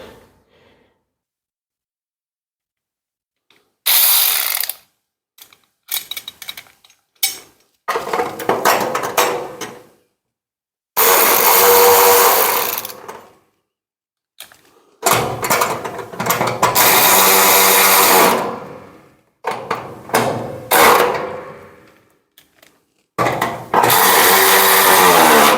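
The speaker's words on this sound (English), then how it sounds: "Power ratchet will make quick work of a lot of your assembly projects." A VTEK 16.8V cordless power ratchet runs in several loud, close bursts of whirring motor and gear noise, some short and some lasting a few seconds, separated by silent gaps.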